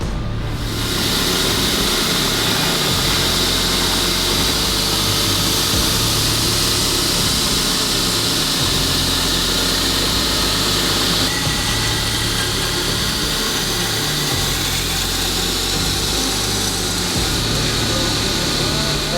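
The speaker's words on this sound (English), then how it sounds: "So the next step for this one is hand grinding down to 120 grit." A knife blade being hand ground to 120 grit on a power grinder, a loud continuous motor whine and abrasive hiss that holds steady throughout, with small shifts in pressure and no voices.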